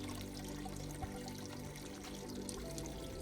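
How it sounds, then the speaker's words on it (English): Water from a large spring in an Arizona desert canyon in the Santa Rita Mountains flows and trickles steadily, a faint continuous wash over low background hum. "There is a massive spring back here."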